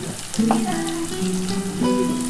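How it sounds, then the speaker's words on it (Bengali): Onions sizzle and crackle steadily in oil in a pan, joined by a faint stirring scrape and some low tonal background hum. "ভালো করে একটুখানি ভেজে নিই"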